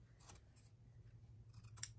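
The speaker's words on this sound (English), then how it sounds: "Then what you want to do is take your scissors" Scissors snip the corners off a rubber-banded piece of material during a DIY fishing gnome craft, a few quick, faint close-up cuts over a low steady hum.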